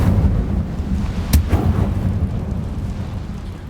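Incendio fire spell cast in Hogwarts Legacy: a sudden loud burst flares over a low, rumbling game backdrop, followed by a fainter echoing flare before the roar settles into a steady drone.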